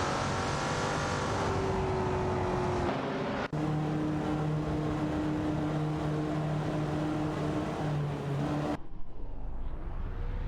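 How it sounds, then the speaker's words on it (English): Racing cars in a video game, including a Porsche 904 and a Lancia Stratos, scream past with high, sustained engine tones that shift pitch as they pull away, with a sudden cut to a quieter passage near the end. "Racing car dashing away."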